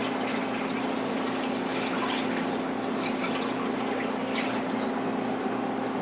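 Brine water poured over a whole chicken sitting in a brining bag makes a steady, continuous splashing rush at moderate level, unbroken and with no talking.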